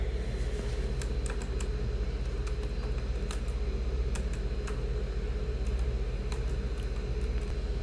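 Keys clack in irregular bursts on a computer keyboard while entering labels in SPSS, small sharp taps over a steady low fan-like hum, no voices.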